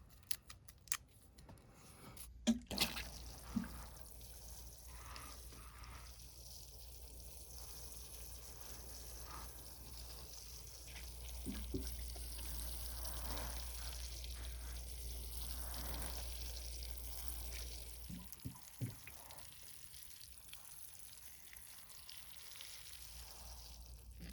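Water is poured steadily onto a potted avocado tree for several seconds, making a soft, continuous splashing rush, with scattered clicks and handling noises before and after.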